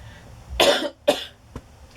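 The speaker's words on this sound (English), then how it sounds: "I'm feeling better, but I still have the residual cough" A person with a lingering residual cough lets out two harsh, close coughs in quick succession, followed by a smaller throaty catch.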